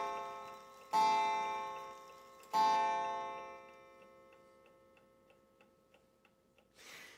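A 1913 Ingraham "Centaur" black antique mantle clock with strike and bell sounds two loud, ringing bell strikes that fade slowly, while its pendulum movement keeps up a faint, steady ticking close by.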